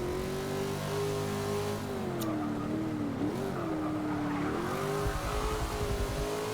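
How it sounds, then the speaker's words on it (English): Holden Monaro in Forza Motorsport 6, engine held at high revs in second gear with the pitch rising and dipping as the tires slide and squeal, loud and continuous with no talking. "I'm flooring it in second gear."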